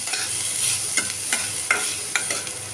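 Onions frying in a pan while being stirred, a continuous sizzle broken by several rhythmic scraping strokes of a spatula, close and clear with no voices.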